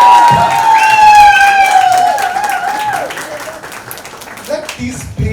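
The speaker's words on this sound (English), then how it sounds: "A round of applause." Applause from the audience at a book launch, with crowd clapping and light cheering throughout, partly masked by a loud sliding tonal sound in the first few seconds.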